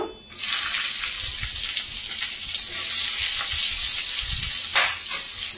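Cashews and chopped onion hit hot oil in a kadai for paneer, giving a sudden loud, steady sizzle that carries on close up, with a few clatters of stirring.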